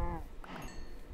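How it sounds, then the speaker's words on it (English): A cow moos in a Minecraft survival farm, a short, low, quiet call at the start followed by faint farm ambience. "I have a lot of cows now."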